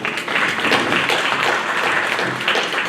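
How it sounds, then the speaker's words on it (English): Thin audience applause at an event as guests are introduced, steady scattered clapping filling the whole stretch at moderate volume with no talk over it. "y'all's applause is sort of kind of weak"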